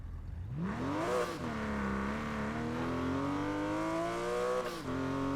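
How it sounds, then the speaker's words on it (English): A turbocharged Porsche 911 engine in the video game Need for Speed Payback revs up and holds a rising, droning pitch, with a brief shift and another surge, loud and steady with a whirring turbo whine. "It sounds brilliant too. Because it's turbocharged as well. You can hear the turbo as well."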